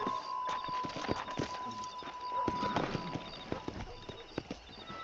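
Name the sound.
horse galloping in video game Red Dead Redemption 2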